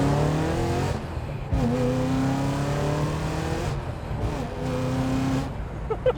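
Supercharged BMW E92 M3 under way, its engine a steady close drone that rises and falls with throttle, a brief pause near the middle as revs drop, then pulling again.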